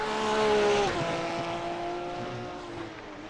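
GT3 race cars from a racing video game, with a loud, steady high-pitched engine whine that drops in pitch as the car shifts or slows, continuous engine roar throughout with no talk.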